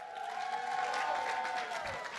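An audience claps steadily at a pitch competition event held at a corporate headquarters, a brief dense round of applause.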